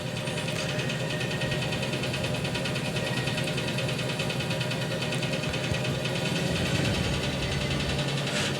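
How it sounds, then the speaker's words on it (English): A heavy video game train engine in Derail Valley roars steadily at full throttle, a constant dense drone with rumbling low end and a buzzing mechanical whine, no pauses throughout. "enjoy the nice sound that it makes here for a bit. This is full throttle."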